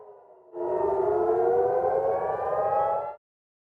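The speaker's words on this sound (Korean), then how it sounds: "시내에는 사이렌 소리가 요란하게 울려 퍼지고" A civil defense air raid siren wails over a city at dawn as missiles fly between Israel and Hezbollah; a loud, sustained rising tone fills about two and a half seconds, then cuts off abruptly, with no voices.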